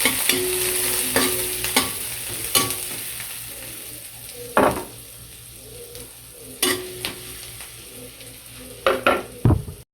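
Onion and garlic sauté in a hot pan for a pechay and tofu dish, with a steady hiss and intermittent spatula knocks and scrapes that cluster toward the end.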